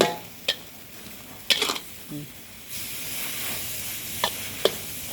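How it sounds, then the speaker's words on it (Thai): Mushrooms and egg being stir-fried in a pan, a soft steady sizzle under a few quick scrapes and clinks of a spatula, close and fairly quiet. "ผัดให้แห้งสักหน่อย แค่นี้เราก็ได้ผัดเห็ดใส่ไข่"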